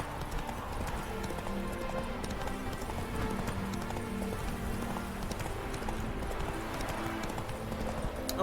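Horse hooves clip-clopping steadily at a run in The Witcher 3, a continuous rhythmic gait with a rumbling ambient bed and a faint rain-like patter, loud and without speech.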